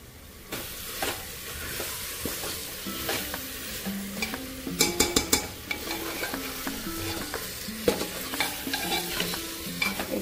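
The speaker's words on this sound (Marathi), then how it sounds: "5 ते 10 मिनिटं मी मटण असंच मसाल्यामध्ये परतून घेणार आहे" Mutton sautéing directly in spice masala in a pressure cooker without any marinade, making a steady close sizzle with frequent scraping stir clatter and utensil knocks, no talking.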